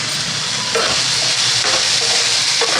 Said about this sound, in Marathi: हलवायचं परत छान.